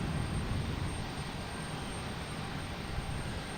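An American Airlines Boeing 737-800 airliner arriving at Boston Logan Airport: a steady, distant broadband engine roar that holds at an even level throughout, with no voices.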